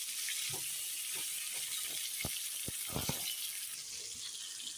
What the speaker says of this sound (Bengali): তেল গরম হয়ে গেছে আমি প্রথমে আলুগুলো ভেজে নিই